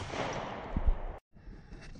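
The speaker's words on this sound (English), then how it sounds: "we'll start out with the Glock 19X, chambered in 9mm, shooting FMJ." A Glock 19X 9mm pistol firing FMJ at a ceramic tile outdoors: a single sharp, loud shot with a brief thump, followed by a sudden cutoff and quieter ambient noise.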